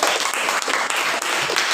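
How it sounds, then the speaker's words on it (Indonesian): A classroom of students clapping for the second group, a dense burst of applause heard close and loud throughout. "Tepuk tangan buat kelompok dua."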